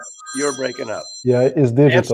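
A landline telephone rings with steady high electronic tones, faint beneath overlapping conversation from several people.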